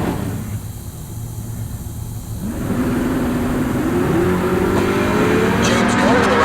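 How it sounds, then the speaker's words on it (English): Naturally aspirated big block Camaro at a drag strip, engine note rising into a loud sustained roar as the car pulls away, with a steady rumble underneath and a voice talking over it. "Naturally aspirated big block"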